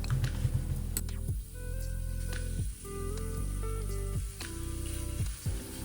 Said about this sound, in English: Using sesame oil to stir fry the beef gives the soup a savory flavor.